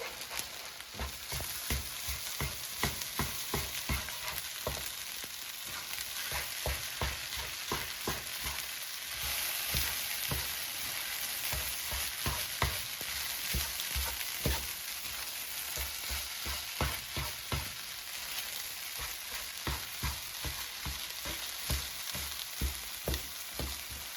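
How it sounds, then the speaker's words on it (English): Rice and egg stir-fry in a pan with a steady soft sizzle, under a continuous rhythm of spatula scrapes and taps against the pan as the mixture is tossed; close and moderately quiet. "And I'm going to mix the rice with the egg."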